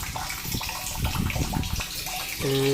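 Weak, thin water flow trickles from a household tap fed by a low-pressure supply line, a faint irregular splashing that ends in a brief steady tone.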